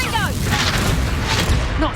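A Confringo fire spell bursts in Hogwarts Legacy gameplay, a deep sustained booming blast filling the two seconds with rumbling low-end energy, overlaid by whooshing spell effects.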